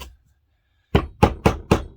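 Four sharp, evenly spaced hammer blows drive a pin into wood in a workshop, loud and close after a short silence.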